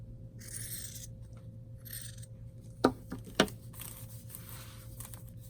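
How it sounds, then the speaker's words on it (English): Paper edges for a sewn-craft journal are trimmed by hand, with soft scraping cuts and two sharp snips over a faint steady hum. "I want my edges to match, so I'm just trimming this up a little bit."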